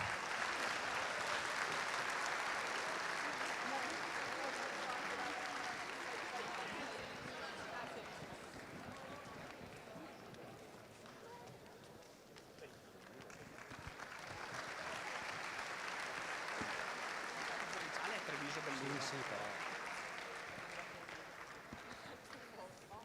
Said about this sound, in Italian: Grande applauso, Under 19 femminile Gold, Reyer Venezia.